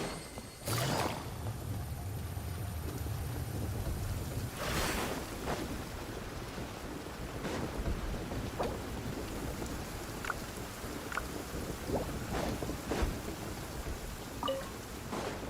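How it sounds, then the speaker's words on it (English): Rain falls in the game Genshin Impact, a steady close hiss of downpour over a low rumbling wash, broken by several sharp bursts like thunder cracks or heavy splashes, with no speech. "It's raining again?"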